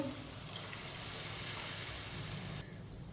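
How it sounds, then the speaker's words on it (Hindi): Water pours steadily from a glass into a pot of cooked masoor dal in a soft, continuous rush for a few seconds, then cuts off near the end. "अब इसमें पानी डाल लेंगे।"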